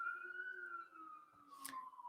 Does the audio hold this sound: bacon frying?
no